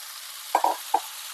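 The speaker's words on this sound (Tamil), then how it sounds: "இந்த டைம்ல ஃபோர்த்து ஸ்டெப்பா நம்ம சுத்தம் பண்ணி வச்சிருக்கிற பாலக்கீரையை பொடியா கட் பண்ணி இதுல" Chopped spinach drops into hot oil and masala in a pan for an Andhra spinach thokku, giving a few short, soft sizzling bursts over a faint steady frying hiss.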